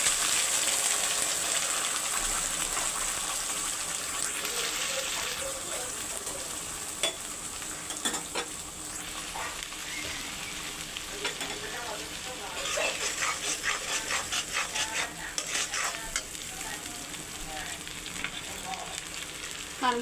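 Mustard, onion and tomato spice paste frying in hot oil, a steady broadband sizzle with intermittent stirring scrapes and spatters, fairly close and continuous throughout.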